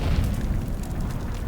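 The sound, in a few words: grenade explosion in the video game Dune Awakening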